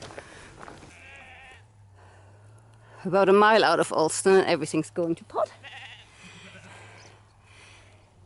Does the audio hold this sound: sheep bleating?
yes